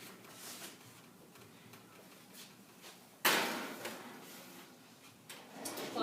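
A home oven door is shut after two sheets of sugar cookies go in, giving one sharp broadband thump partway through, followed by quieter kitchen handling noises.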